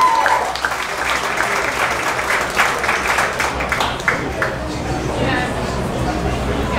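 Audience applause at a live music gig, a dense steady clapping from a crowd in a small venue lasting throughout, loud and close, with some chatter mixed in before it begins to thin out near the end.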